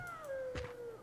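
A cat in the horror game Demonologist gives one short, close meow with a falling pitch, heard alone against a quiet background.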